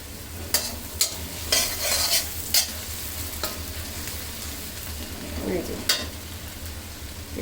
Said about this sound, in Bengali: এভাবে চুলা রাস্তা মিডিয়ামে রেখে আমি এটা নেড়ে চেড়ে বাদামি কালার করে নিচ্ছি